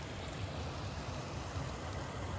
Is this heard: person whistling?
no